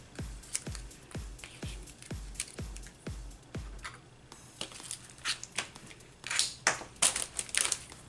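Scissors cut through paper scraps for a DIY planner spread, a run of about nine crisp, evenly spaced snips up close, followed by softer rustling and crinkling of paper as the pieces are handled, no voices.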